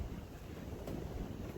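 Gusty wind before a spring storm with a tornado watch rolling in, buffeting the microphone in a continuous low rumble that rises slightly toward the end.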